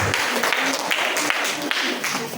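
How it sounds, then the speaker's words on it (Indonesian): An audience bursts into applause for Ibu Harsa, a dense, close burst of many hands clapping that fills the whole short stretch with no voices above it. "kita berikan aplaus untuk Ibu Harsa"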